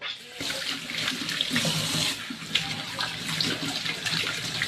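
Running water pours steadily from a faucet into a sink during a rinse, a close, continuous splashing rush with small surges and no voices.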